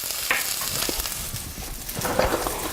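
Cabbage sizzles steadily on a grill, a close, even frying crackle with a few brief clinks and scrapes rising over it.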